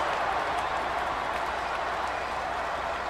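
A crowd claps and applauds steadily at a distance at a marble racing event, a dense wash of hand claps with no voices rising above it.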